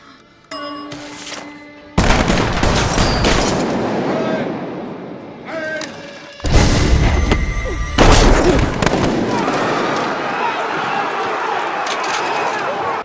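Gunfire in a Dark Knight film scene, repeated loud blasts and rattling shots over a dense, noisy action mix with dialogue and music underneath.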